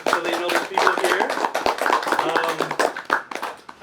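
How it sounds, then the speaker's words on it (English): Audience at a poetry night in a cafe claps together, a steady patter of many hands running through the whole stretch with talk and chatter mixed in underneath. "Let's give a round of applause so they know there's people here."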